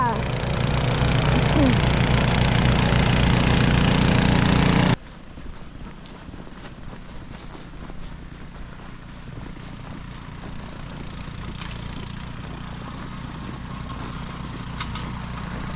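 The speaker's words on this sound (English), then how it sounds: "Not a fan of the snowblower" A snowblower engine drones loudly at the start, then cuts off abruptly after about five seconds. A quieter low hum and faint ambient sounds follow.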